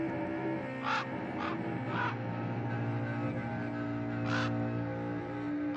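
A raven or crow caws several times over a steady droning background at a fashion show, four or five rough, separate calls spaced irregularly and fairly prominent.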